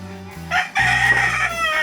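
A rooster crows once, loud and close, with a strained, rising call that trails off.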